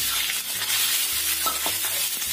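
Chicken pieces stir-fry in oil left over from cooking eggs, giving a steady close sizzle with a few scraping stirs and a low background hum.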